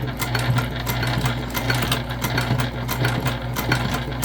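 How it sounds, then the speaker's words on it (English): Sewing machine stitching down the open edges of a date night bag, a close, steady, fast rhythmic whirring and ticking that runs without a break. "And then we're just going to stitch down the open edges."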